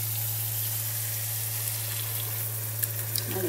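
Yogurt-marinated potatoes and a freshly poured tadka sizzle in a pan while cooking dahi aloo: a steady, close hiss of frying throughout, with a few sharper pops and crackles toward the end.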